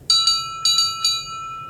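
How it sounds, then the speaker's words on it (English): A tram engine's bell rings cheerfully in five bright, clear strokes, in two quick pairs and then a single ring, each note lingering over a faint low background hum. "Toby rings his bell cheerfully to everyone he meets."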